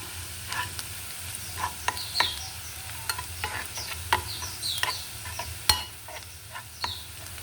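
Garlic frying in a pan gives a steady, soft sizzle studded with crisp pops and light spatters at irregular intervals, close-up with no talk.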